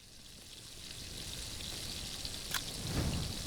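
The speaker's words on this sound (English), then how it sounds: "And then I'll use that to cook this rabbit." Rabbit meat cooks over a campfire in the survival game The Last Plague: Blight, giving a soft steady crackling sizzle with faint popping, one brighter snap midway and a low fire rumble near the end; no talking.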